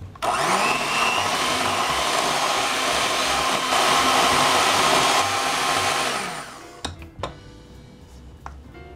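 An electric mixer whirs steadily and loudly while beating chocolate cake batter with flour, cocoa and sour cream, a continuous motor drone that winds down and stops near the end, followed by a few light clinks.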